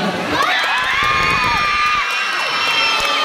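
Loud shrill cheering and whooping from a crowd at a gay beauty pageant's national costume round, sustained high voices with few claps, close and continuous throughout.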